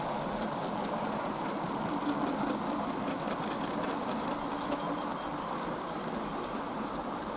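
A new Hornby J52 model locomotive runs steadily on a 4mm-scale model railway, giving a continuous close rumble and clatter with no talk over it.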